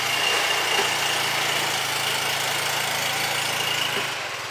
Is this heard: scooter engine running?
yes